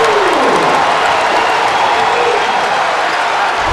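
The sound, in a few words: basketball crowd cheering after a basket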